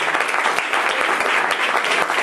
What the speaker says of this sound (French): Je pense que le Rav mérite beaucoup d'applaudissements très chaleureux